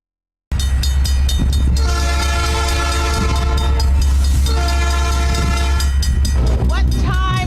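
A train sound effect in a radio jingle: a loud rumbling train with clattering wheels, and a sustained multi-tone train horn blaring twice over the steady roar.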